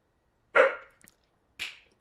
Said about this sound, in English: Hey, stop the barking now.